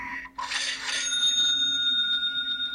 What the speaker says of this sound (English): We can hear the sound that says the transaction has been completed.